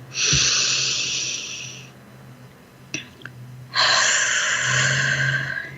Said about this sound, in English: breathing in through your nose, out through your mouth, deep breathing all the way to your toes